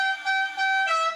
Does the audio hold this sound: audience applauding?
no